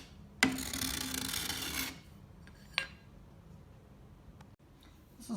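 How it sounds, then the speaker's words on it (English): Scraping along a hickory longbow limb to adjust its tiller: one long, rough rasping stroke, followed by a shorter scrape and a faint tick, close and clear with no talk. "This is about how much I take with one good scraping along a limb"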